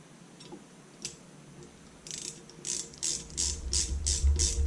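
A 1/4 inch drive ratchet with a 7 mm socket tightens a bolt on an upper control arm, giving a run of crisp, evenly spaced clicks that grow louder and quicker toward the end, close up with no talking.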